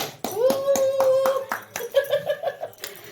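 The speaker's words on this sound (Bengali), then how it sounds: "হাততালি দাও একটা হাততালি দাও" A child claps hands in a quick series of sharp, close slaps, interrupted by a sustained vocal tone and a bit of laughter.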